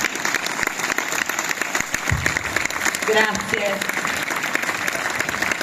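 Audience applause at a memorial gathering in Nuoro, steady dense clapping that holds throughout, with a voice briefly speaking over it.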